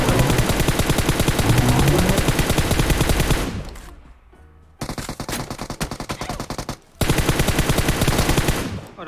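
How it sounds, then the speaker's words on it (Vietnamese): Gunfire in the PUBG Mobile video game: loud, dense automatic bursts fill most of the stretch, broken by a brief quieter gap and another pause, with sharp rapid shots throughout. "Bắn ở đâu đấy"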